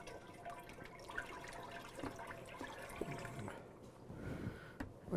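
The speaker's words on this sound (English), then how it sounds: "I'm just going to go ahead and pour this in my machine" Mango water ice mix poured into a B12 frozen dessert machine through its large top spout, a steady liquid splash and trickle running for several seconds, close and fairly quiet.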